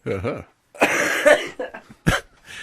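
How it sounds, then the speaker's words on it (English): Several sharp, rough coughs from a sick man nearby, coming in bursts separated by short pauses. "He's been sickly, so that's why he's coughing."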